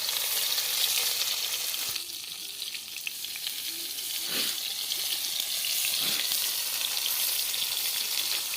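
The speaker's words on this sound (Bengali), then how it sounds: "কড়াইতে আমি দিয়ে দিচ্ছি এই ভেটকি মাছের পাতুড়ি লাউ পাতা দিয়ে" Bhetki fish paturi wrapped in bottle gourd leaves fries in oil in a wok, a steady, moderately loud sizzle with a couple of brief hissing bursts as pieces settle, no voices.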